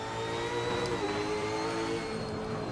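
A V8 Supercar engine in the Assetto Corsa racing game drones at high, steady revs, a continuous loud tone with a slight pitch dip midway and no voices.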